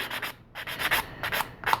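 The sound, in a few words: 180 grit sanding stick sanding resin model part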